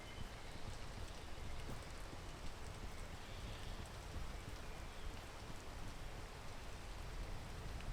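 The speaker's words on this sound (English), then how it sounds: "I just gotta wait for it to stop raining." Rain falls as a soft, constant hiss with a faint patter of drops, steady and fairly quiet throughout, with no voices.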